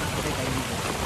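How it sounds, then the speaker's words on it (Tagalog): Heavy rain pours down in a dense, continuous hiss, loud and close. "Grabe ang ulan."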